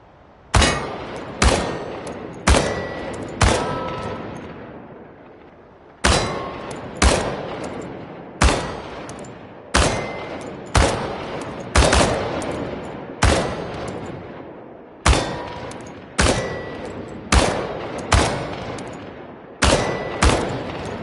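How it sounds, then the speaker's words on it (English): Automatic weapon fire at target cans in Chernobylite, delivered as a series of short, loud, close bursts with brief pauses and echoing tails between them, roughly fifteen bursts in a row. "The biggest challenge is compensating for recoil in automatic firing mode"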